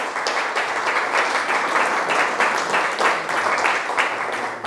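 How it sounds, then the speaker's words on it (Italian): Audience applause for a regional councillor at a Valsabbia event, a sustained burst of many hands clapping at a steady density, moderately loud with no voices over it. "per il quale chiedo un applauso"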